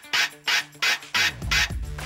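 A DJ scratches a vinyl record on a turntable, with five or six short rasping strokes in quick rhythm, the backward pulls muted, close and alone.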